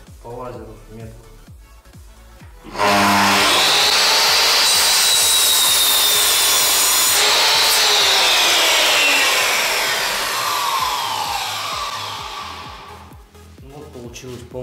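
A laser-guided circular saw whines up and bites through wood for about ten seconds during door installation, loud and close, with someone talking before and after the cut.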